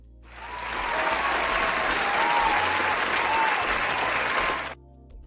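Steady applause from a studio audience on a Channels TV talk show, loud and sustained for about four seconds before cutting off abruptly.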